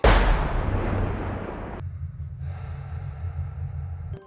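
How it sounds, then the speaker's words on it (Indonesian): A single loud gunshot opens the scene in a gangster action film, its boom decaying into rumbling reverberation, followed by quieter ambient tones and a faint high whine. "segera menembak tubuh Yuichi"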